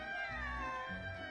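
A cat in the video game Genshin Impact gives a drawn-out, wavering meow, clear and steady over a soft low background.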